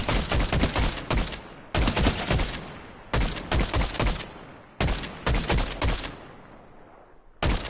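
Rapid automatic gunfire in the video game Fortnite comes in loud, close bursts of a second or so, separated by short gaps, with fast repeated shots in each burst and no talking.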